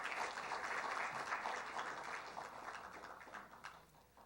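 At a Korean software industry protection award ceremony, an audience applauds as a government bureau director is welcomed onstage: soft, distant, steady clapping that gradually thins and fades out.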